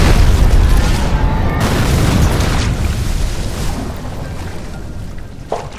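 A large explosion in the shooter game F.E.A.R., a loud booming blast with a long rumbling tail that fades over several seconds, followed by a brief sharp pop near the end.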